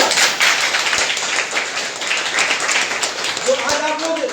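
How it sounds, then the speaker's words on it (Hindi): An audience at a company training program claps briefly, a scattered patter of hands over room noise with a few sharper taps and a faint voice near the end. "एक बार ताली बजा दीजिए"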